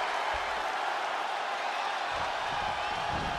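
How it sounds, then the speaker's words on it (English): A large wrestling arena crowd at a Hell in a Cell title match roars in a steady, dense wall of cheering and noise that holds loud and unbroken throughout. "What a raucous crowd here tonight."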